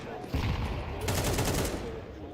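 Gunfire in Counter-Strike 2 during a tournament quarterfinal match, a brief close burst of rapid shots over a short stretch of background noise, with a commentator's voice present.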